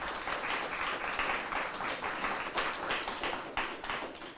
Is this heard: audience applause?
yes